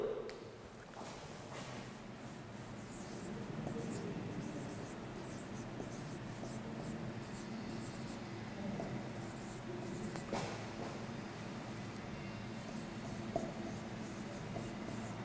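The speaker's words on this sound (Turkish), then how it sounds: "Şimdi onları yazalım." Pen scratches across paper as Ottoman Turkish letters are handwritten, a faint, close, continuous scribbling with short strokes and pauses throughout.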